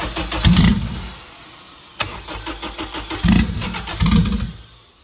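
A vehicle engine fresh from a crank sensor replacement, injectors just switched back on, cranking in several loud, close bursts with a sharp click between them, turning over repeatedly with a brief catch.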